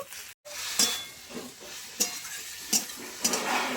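Bean leaves frying in a pan with salt and turmeric give a steady sizzle, broken by several sharp scrapes and clinks of a spatula stirring them, close and fairly loud, with no voices.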